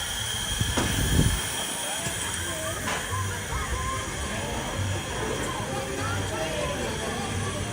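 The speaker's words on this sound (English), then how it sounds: "you get an idea of how loud this train is" A loud amusement park train rumbling and hissing close by, with a brief heavy burst near the start, then a sustained roar with faint squeals.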